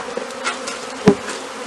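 Honey bees from a swarm buzz in a steady close drone, with a sharper burst of buzzing as one passes near, and no voices over it.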